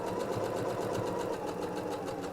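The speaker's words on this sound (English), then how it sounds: "let's just sew all the way around here" A sewing machine runs continuously, stitching around the edge of a fabric bag with a fast, even mechanical whir and rhythmic needle pulse, close and steady.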